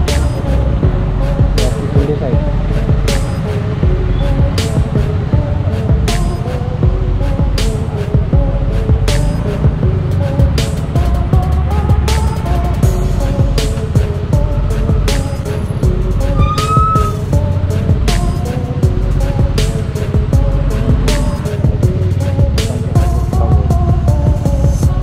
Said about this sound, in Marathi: ऐक पुरं ट्रॅफिक लागलं पाठपर्यंत.